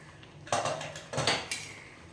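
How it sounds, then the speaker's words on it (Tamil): Three metallic clanks and scrapes as a pressure cooker lid is worked open after cooking meat in a home kitchen, each knock ringing briefly in a quiet room. "இப்போ வந்து குக்கர் ஓப்பன் பண்ணிக்கலாம்"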